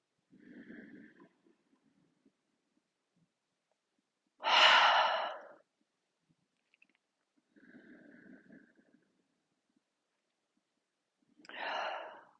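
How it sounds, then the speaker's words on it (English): Slow yoga breathing, with soft inhales and exhales through the nose or mouth coming in gentle, even cycles with quiet pauses between them, close and alone. "continue breathing however feels best. In and out through your nose or your mouth."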